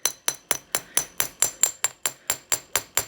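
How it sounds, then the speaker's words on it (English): Metal hammer tapping along the edges of a copper wire-wrapped bracelet, about thirteen sharp, evenly spaced ringing strikes in a steady rhythm, close and clear with no talk. "as I'm hammering on these edges, it gives it almost like a diamond cut look"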